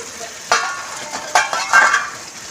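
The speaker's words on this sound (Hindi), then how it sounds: "गोश्त डाल के हम भूनेंगे।" Mutton frying with translucent onions in a pan, a soft sizzle broken by a few sharp bursts of stirring and scraping, close by.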